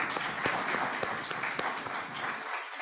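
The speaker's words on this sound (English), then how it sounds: "Let's hear another round of applause." A health summit audience breaks into steady applause, many hands clapping together in a dense, continuous patter that fills the hall before tapering off at the end.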